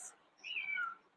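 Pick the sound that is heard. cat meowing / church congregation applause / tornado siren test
cat meowing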